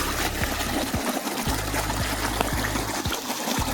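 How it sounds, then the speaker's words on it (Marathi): Water gushing from a farm motor pump into a field, a loud continuous close-up rush and splash with a low steady hum underneath and no speech. "हे झाले आपलं मोटर सुरू आणि चाललं आता पाणी"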